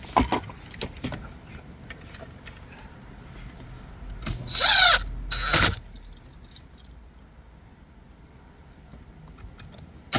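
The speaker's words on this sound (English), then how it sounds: "So then we're gonna put two screws back in since we don't have to touch the radio anymore." Two screws driven back into dashboard trim on a 2009–2013 BMW X5 or X6, heard as a short buzzing burst from a power driver in the middle, plus small clicks and rattles of handling around it.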